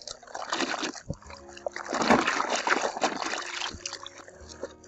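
Denim jeans being gently hand-washed in water, with irregular close sloshing and splashing as the fabric is swished and squeezed, a few soft dribbles in between.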